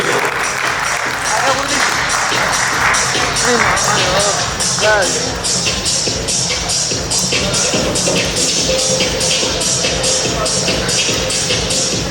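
Audience applause fills the hall at the M&T Acme Awards 2021 show, a steady wash of clapping lasting throughout, with a voice talking over it.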